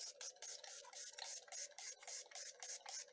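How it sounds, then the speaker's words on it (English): Repeated quick bursts of spray from a pump bottle onto a cup, a dozen or so short hissing squirts in an uneven rhythm, close and fairly quiet. "I spray it again."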